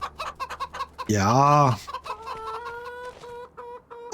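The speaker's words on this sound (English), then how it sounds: "Now we got chickens." Chickens in a farming video game cluck in short repeated bursts, with one long, loud squawking call in the middle and a brief voice heard once.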